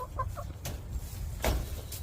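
Hens clucking on a snowy homestead, a few short soft clucks close by with some brief louder bursts, no talking.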